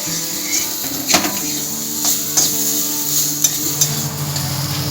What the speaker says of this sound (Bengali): অল্প একটু কারি পাতা দিচ্ছি এরপরে আরেকটু ভেজে নিচ্ছি